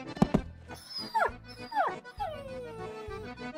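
A dog in the Pasta Monsters video game gives a couple of sharp barks, then whining, whimpering yelps and a drawn-out falling whine, close and fairly loud over background game sounds.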